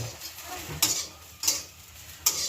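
Food sautéing in a pan is stirred with a ladle: three sharp metallic scrapes stand out at regular intervals over a soft steady sizzle, close and clear, with no talking.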